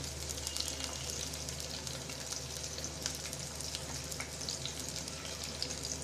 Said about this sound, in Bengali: কয়েকটা কাঁচামরিচ ভালোভাবে ভেজে নেব